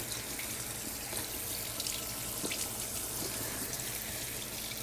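Water from a tap pours steadily over a pottery screen-printing screen being rinsed, a constant close splashing wash that runs unbroken from start to finish.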